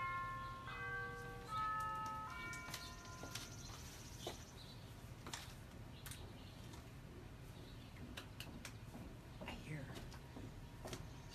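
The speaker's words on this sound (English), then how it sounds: "Push the doorbell with me." A home doorbell chimes out a short sequence of clear descending tones, followed by quiet shuffling, soft clicks and faint room noise.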